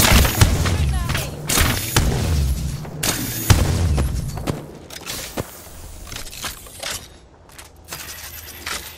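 Gunfire and explosive booms in the Apex Legends battle royale video game, with bursts of shots and heavy impacts crowding the first half, then sparser scattered shots and footsteps-like clatter, with some voice in the mix.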